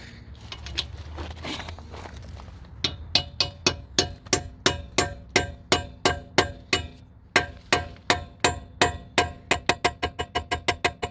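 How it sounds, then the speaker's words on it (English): Metal hammer blows on a socket fitted over a wheel lock nut ring out in a steady series, about two dozen sharp clanks speeding up toward the end, after a moment of rustling. "hold it like that and then keep hammering until this out"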